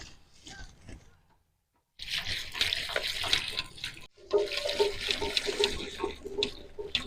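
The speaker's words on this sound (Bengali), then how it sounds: "প্রথমে আমরা আঙুরগুলোকে ধুয়ে নেব।" Grapes are washed under running water in two gushing, splashy bursts separated by a brief silent pause, close and moderately loud.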